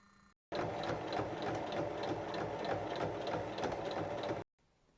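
Sewing machine stitching two 5 cm fabric strips right sides together along their full length: a steady, close whirring run of rapid stitches for about four seconds, starting and stopping abruptly, with no talk.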